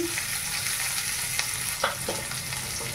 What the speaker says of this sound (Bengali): পেঁয়াজ আর কাঁচা লঙ্কাটা দিয়ে দিচ্ছি